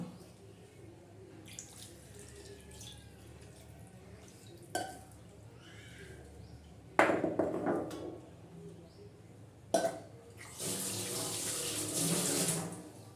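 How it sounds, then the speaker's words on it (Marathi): Intermittent splashes and pours of water onto a stone grinding slab, washing off ground masala, with bursts of running water and quiet pauses between. "हे मसाल्याचं पाणी आपण घेतलेलं आहे पाटा धुवून"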